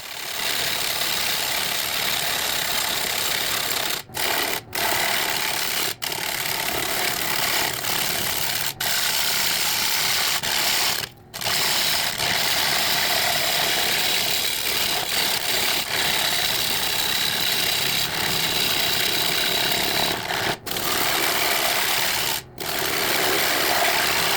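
Continuous whirring and rasping of a wood lathe turning a large 18-inch piece, a cutting tool scraping the spinning wood with brief pauses and a steady hum.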